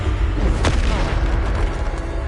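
A Bombarda spell explodes in Hogwarts Legacy, a loud, deep boom with a sharp burst near the start that rumbles on heavily for a couple of seconds.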